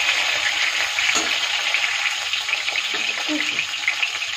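Rohu fish pieces frying in hot oil for a Bengali fish curry, a loud, dense, continuous sizzle up close with a few faint clinks and shifts in the pan.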